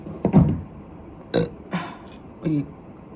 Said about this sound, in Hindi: डकार आ गया मेरे को